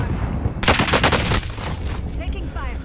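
Gunfire in Call of Duty: Warzone Resurgence, a rapid automatic burst of shots lasting under a second, loud and close, followed by quieter game noise and faint distant shots.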